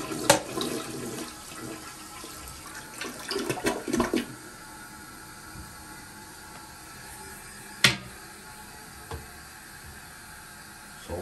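A toilet being checked for a loud-noise complaint is flushed, giving a sharp click and a short burst of rushing water followed by a quieter hiss of refilling, with a few faint clunks later.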